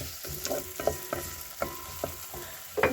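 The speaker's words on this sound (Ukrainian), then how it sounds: "влійка розігрілася в казанку і висипаю цибульку в казанок" Onions sizzle and crackle in hot oil in a cauldron close up, with repeated scraping stirs every half second or so, no voices.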